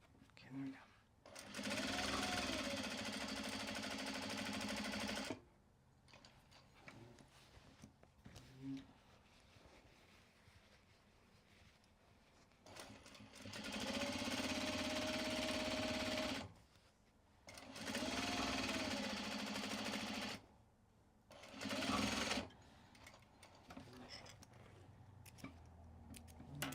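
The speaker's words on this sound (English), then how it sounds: "do the top stitching across the top of this flap here" Sewing machine running in several separate bursts while top stitching across the flap of a mini traveler sling bag made from Japanese fabric, with pauses between runs and talk in the quieter gaps.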